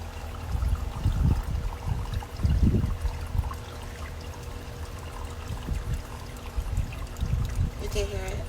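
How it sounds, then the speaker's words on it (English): Water trickles and drips steadily down through a DIY watering system of stacked Dollar Tree planters, close and continuous with a soft low rumble underneath, and no talking. "Dripping to the other plants."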